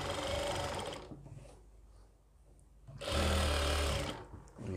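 Electric sewing machine stitching a medical nurse coat in a tailoring boutique: two close, loud runs of rapid whirring stitches separated by a quiet pause of about a second and a half.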